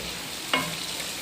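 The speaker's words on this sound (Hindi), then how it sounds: "अब हम इस स्टेज पे आके इसमें अपनी हरी मिर्चें और लौंगी मिर्च ऐड कर देंगे। थोड़ा सा इसको भी फ्राई करेंगे।" Green chillies and long chillies frying in ghee with dal mash, a steady close sizzle with one brief sharp spatter or stir midway.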